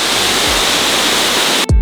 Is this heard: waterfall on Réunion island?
yes